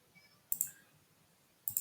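Two crisp computer mouse clicks about a second apart, close and fairly quiet, set against near silence while online ad audience settings are being configured.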